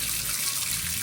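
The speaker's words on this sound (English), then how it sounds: "Once you start the water, we also have a switch just here." Water from a kitchen tap pours in a steady, soft hiss and splash, constant for the short moment with no voices.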